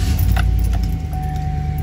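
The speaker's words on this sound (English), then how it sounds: "But when we turn on the car," A 2007–2014 Chevrolet Tahoe or Silverado being switched on, with a brief key jingle and the engine turning over into a low steady rumble, close and with no talk.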